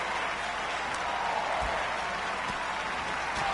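Wrestling fans clapping during a women's match between Brie Bella and Chelsea Green, a steady wash of crowd applause and noise filling the arena throughout.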